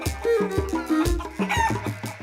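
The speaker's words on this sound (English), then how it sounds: "Our first job today is to help Juliet with our chicken." A chicken on a farm gives a loud, close crowing and clucking call, a quick series of rising and falling notes lasting a couple of seconds, with no voices.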